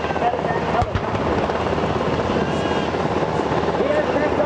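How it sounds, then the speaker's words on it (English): A medevac helicopter flies during a Wisconsin National Guard joint forces demonstration at the EAA AirVenture 2024 air show, giving a steady broadband rotor and engine roar with wind noise, heard continuously at moderate distance. "to the medevac helicopter."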